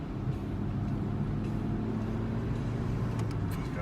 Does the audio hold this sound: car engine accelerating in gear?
yes